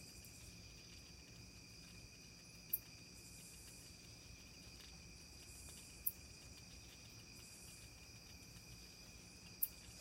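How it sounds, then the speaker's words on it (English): Crickets chirp in a steady, continuous high trill over a low background hum, moderately faint, with a few sharp isolated clicks. "There's a lot of insects here"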